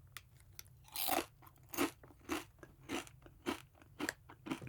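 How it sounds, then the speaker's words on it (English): Spicy dill pickle potato chips crunch between the teeth in a steady rhythm of about nine close, crisp bites and chews, with no talking. "that is this wonderful spicy dill, and it makes for an incredibly satisfying chip"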